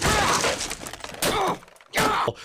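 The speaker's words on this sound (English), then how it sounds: "just walking in and being like, "Ring, ring, hello," and then just smashing it and just beating it to a pulp" A cartoon telephone is smashed and beaten to a pulp in a burst of loud shattering, breaking crashes with thuds, arriving in several separate hits across the short span with no talk.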